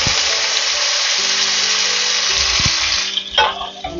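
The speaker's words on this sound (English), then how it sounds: "I did remove the bacon grease but reserved 2 tablespoons, and I'm going to add in the ground beef." Ground beef drops into a hot pan holding reserved bacon grease, giving a steady, loud frying hiss that breaks up near the end into scraping and spattering as the meat is moved around.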